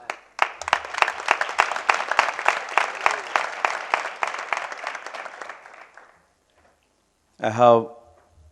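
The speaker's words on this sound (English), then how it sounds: "I think he deserves a better applause from us." Hall audience at a graduation ceremony claps in a rhythmic, synchronized beat that fades after about six seconds, followed by a brief silence and then a speaker's voice.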